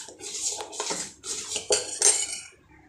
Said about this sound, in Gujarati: હવે આપણે બધું મિક્સ કરવાનું છે.